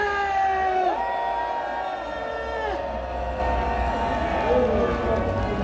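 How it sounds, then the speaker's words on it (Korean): A rally crowd shouts and cheers loudly for several seconds in a sustained roar of many voices. "고함 5초만 힘차게 함성 내질러 주시기 바랍니다"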